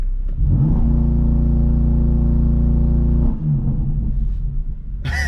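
A BMW M4 CS engine holds a loud, steady rev with low harmonics, then drops sharply as it downshifts, burbling lower before a brief sharp burst at the end.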